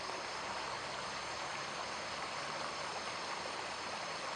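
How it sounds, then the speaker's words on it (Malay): Steady broadband rushing of fast-flowing river rapids at a campsite, continuous and even throughout, close by with no voices. "Sama dengar bunyi aliran air sungai. Arus."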